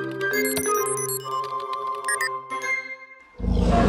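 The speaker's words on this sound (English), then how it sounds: "And that sounded like a dinosaur." A failed cartoon siren attempt in a kids' truck cartoon, a jumble of jingly tones that ends in a loud, rough dinosaur-like roar, with no voices.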